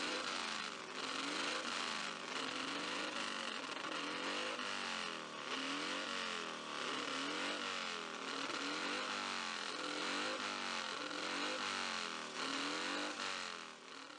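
A BMW RS54 racing motorcycle engine roars at close range, rising and falling in repeated revving sweeps as it races past, loud and continuous with no voices.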